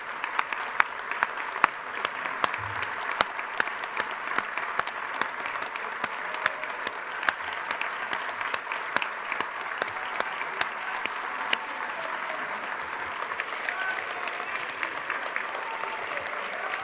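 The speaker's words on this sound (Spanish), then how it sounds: "Gracias por esos aplausos" An audience at an indoor peace dialogue event applauds steadily, a long sustained wash of many hands clapping with sharp individual claps standing out, fading slightly toward the end.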